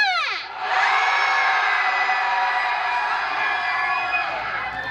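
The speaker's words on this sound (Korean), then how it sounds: "두세 번째 노래 시작하기 전에 함성 들어보고 시작할게요." A festival concert crowd at a university campus festival cheers and screams loudly, a sustained roar of shouts and whoops that swells after a brief rising voice at the start and stays dense throughout.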